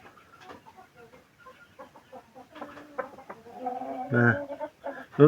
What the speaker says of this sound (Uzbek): Shu tovuq mana shu yerda tovuqlar turibdi